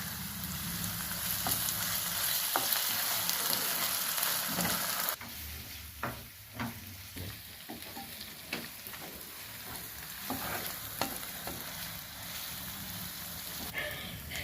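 Ginger garlic paste fries in a pan for a village-style egg curry, giving a steady hissing sizzle that quiets after a few seconds into softer crackling, with scattered clinks and scrapes of stirring throughout.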